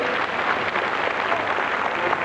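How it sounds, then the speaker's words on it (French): Audience applause at a points-scored competition, a dense, steady wash of clapping that holds at an even level from start to finish. "on vous applaudit très fort"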